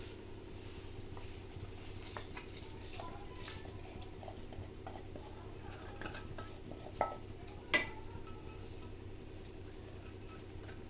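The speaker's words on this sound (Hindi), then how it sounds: "अब ये जो भीगा हुआ चावल है, अब इसमें हम मिला देंगे।" Soaked rice stirred into a pot of boiling water, cooked Sindhi style with green garlic; steady scraping and stirring over a constant bubbling bed, with a couple of sharp clinks of a utensil against the pot near the end.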